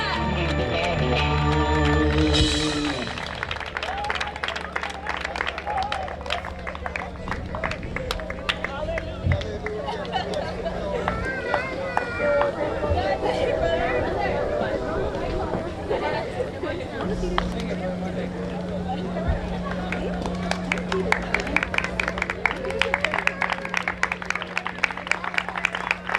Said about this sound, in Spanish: ese aplauso fuerte a Dios.